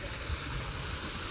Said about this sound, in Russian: Волна у нас тут неспокойна.